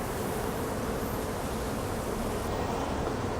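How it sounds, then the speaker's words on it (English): A steady, dense insect buzz of bees around brightly colored flowers fills the air, continuous and even, with no voices. "You can see why bees love to be here."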